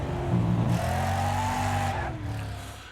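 Race cars in the Wreckfest video game roar around a track, with a loud engine drone, a rising rev and a passing car, plus a faint tyre squeal. The sound is continuous and close throughout.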